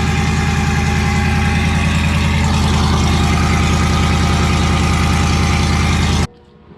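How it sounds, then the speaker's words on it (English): Close, loud idle of a Chevrolet Silverado Z71 fitted with a custom stainless steel exhaust and Borla Atak muffler: a deep, steady pulsing drone that holds constant, then cuts off abruptly near the end. "They're gonna pull out the truck because since it's in there, it kind of sounds a bit too loud."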